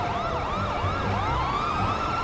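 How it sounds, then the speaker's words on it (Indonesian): An ambulance siren wails continuously in GTA 5, its pitch sweeping up and down in repeated cycles, loud and close, with a low engine rumble underneath. "Ambulan datang"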